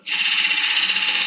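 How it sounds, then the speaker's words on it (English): A skew chisel cuts a dovetail into horse chestnut spinning on a wood lathe, giving a steady, loud, bright hiss that holds without a break. "now we can go in with the skew and just make our dovetail"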